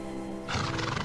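A generation 3 horse in the online game Star Stable lets out a loud whinnying neigh in the game audio, with no voices over it.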